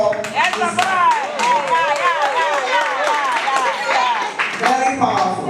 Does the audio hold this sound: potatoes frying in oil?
no